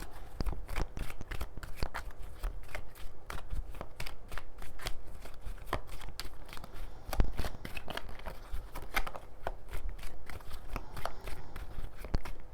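Tarot cards being shuffled continuously, a rapid rhythm of crisp riffling flutters and slaps close to the microphone, with no talking.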